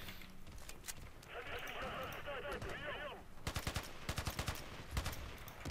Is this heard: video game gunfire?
yes